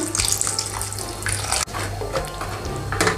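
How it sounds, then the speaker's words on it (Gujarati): Water pours steadily into cashew curry gravy in a pan, about half a glass, in a continuous splashing stream with a brief break midway before it resumes. "આ ગ્રેવીમાં અડધો ગ્લાસ જેટલું પાણી ઉમેરીશું"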